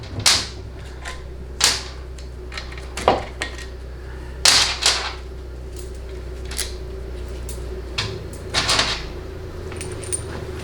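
Metal bolts removed during a Ford C6 automatic transmission teardown clink and rattle as they are handled and set down, producing scattered sharp metallic taps and jingles over a steady background hum, with no talking.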